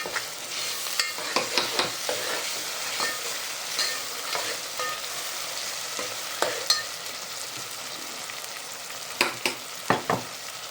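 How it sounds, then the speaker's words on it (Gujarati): Tomatoes frying in a pan with onion for prawn biryani, a steady close sizzle broken by repeated scraping stirs of a spoon, no talking. "હવે નાખવાના આમાં ટમેટા ટમેટાને પાકવા દેવાના"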